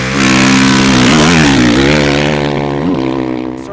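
A 2010 Honda CRF 450R dirt bike at a motocross track, its four-stroke engine revving loud and close, with pitch swells and dips across a few seconds and no talk.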